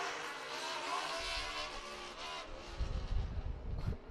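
Race car at an autocross event, a continuous engine drone heard from nearby that swells into louder low rumbling in the final second and a half, with no talking.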